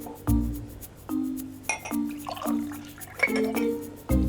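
Warm water poured bit by bit from a glass into almond pastry dough, giving several separate clinks and short liquid splashes spread over a few seconds, close and alone.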